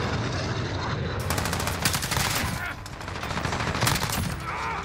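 Rapid automatic AUG rifle bursts in Modern Warfare, loud and close, firing in dense repeated volleys with brief pauses between strings of shots.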